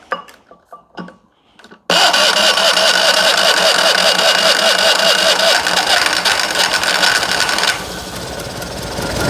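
A Fiat 126P engine cranks and starts on kerosene after a few faint clicks, then runs loud and steady with a buzzy, rattling idle close by, easing slightly quieter near the end.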